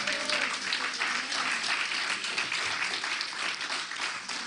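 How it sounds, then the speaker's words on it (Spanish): A church congregation applauds together, a dense, continuous clapping of many hands that fills the room steadily from start to finish, with faint voices mixed in. "Los que se gozan le dan un aplauso al Señor."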